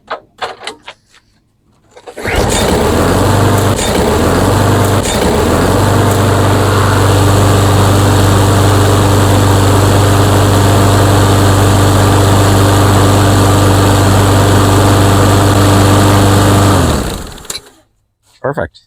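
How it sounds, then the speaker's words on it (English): Mastercraft lawnmower engine starting up and warming, a loud steady close drone running roughly fifteen seconds with slight rough wavering, then cutting off abruptly to near silence. "I'm just going to fire up the engine, get it nice and warm"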